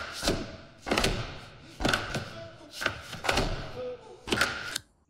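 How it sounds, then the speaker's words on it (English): Heavy punches thud into a punch bag one after another, about six solid hits at an uneven pace, with quieter room ambience between blows. "someone punching a punch bag"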